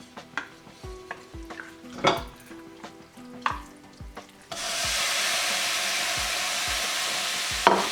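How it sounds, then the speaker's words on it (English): Minced mutton keema cooks in a warm pan without oil, first with a run of sharp spatula taps and scrapes, then a steady loud sizzle that fills the rest. "To a warm pan, add in keema."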